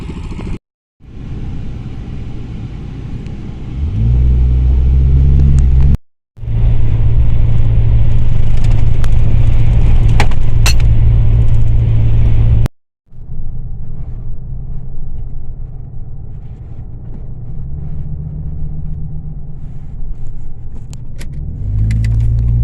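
Lifted camper vans and mini bikes cruise around a campground, a loud, steady low engine rumble close by that cuts out briefly twice, with no talking.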